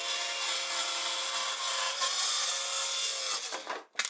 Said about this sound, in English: We're gonna use a circular saw.